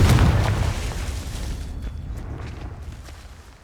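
Confringo spell explosion in the video game Hogwarts Legacy: a sharp, loud boom up front that decays into a rumbling crackle over a few seconds, heard alone.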